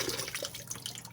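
Cold water runs from a tap into a pan, a close, fairly soft splashing and trickling stream that continues steadily with small bubbling variations and no talking.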